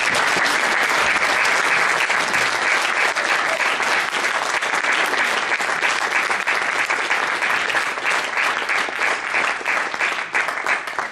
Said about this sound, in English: Can we get a round of applause for the candidates?